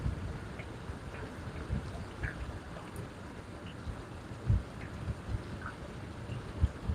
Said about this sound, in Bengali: অনেক বৃষ্টি নামতেছে